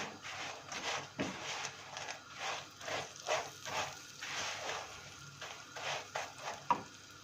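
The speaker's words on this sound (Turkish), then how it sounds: "Tereyağımız erimeye başladı." Butter melting with sunflower oil in a pan while homemade noodles are stirred and toasted, soft sizzling broken by rhythmic scraping strokes of stirring, fairly quiet and close.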